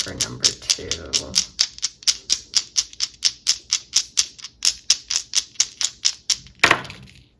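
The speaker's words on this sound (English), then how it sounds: "let's roll the Astro dice and see what other messages we have about this connection for number 2" Astrology dice rolling and clattering in a rapid, steady series of about twenty sharp taps, fairly close, ending in a louder final knock.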